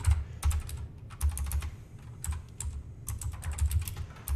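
Java code being typed on a computer keyboard, quick close bursts of key clicks broken by short pauses, steady and fairly crisp, with no talking.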